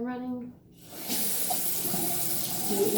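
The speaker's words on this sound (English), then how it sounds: "Start the water running." Tap water gushes into a bathroom sink, starting after a brief pause and running as a steady, close, hissing stream for a couple of seconds.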